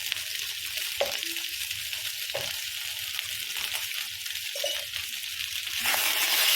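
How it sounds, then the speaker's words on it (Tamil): Potatoes with turmeric and chili powder being stirred in a hot pan: a steady close sizzle with occasional scraping strokes, growing louder near the end. "இதெல்லாம் நல்லா மிக்ஸ் பண்ணிடுவோம். நல்லா மிக்ஸ் பண்ணி வச்சு ஒரு 2 நிமிஷம் வச்சு குக் பண்ணிட்டுருவோம்."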